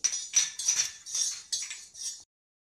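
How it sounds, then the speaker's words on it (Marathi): Coriander seeds are dry-roasted and stirred in a pan for curry leaf chutney, giving a close series of about six rhythmic scraping, rattling clinks that stop abruptly. There is no talk. "आपल्याला हे धने थोडे परतवून घ्यायचे आहे"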